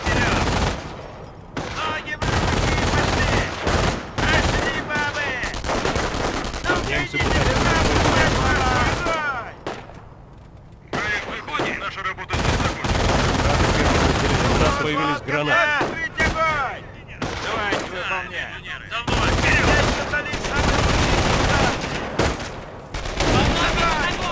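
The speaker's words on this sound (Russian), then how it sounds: "Фрицы стреляют по нам!" Machine guns and artillery fire in dense, repeated bursts across a Company of Heroes battle, loud and continuous with short lulls, while voices call out over the gunfire.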